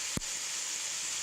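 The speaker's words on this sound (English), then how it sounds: "just put your tomatoes in. You want to hear that sizzle" Tomatoes hit a hot pan for shakshuka with a brief splashy burst, then settle into a steady, close hiss of sizzling that carries on alone without any talking.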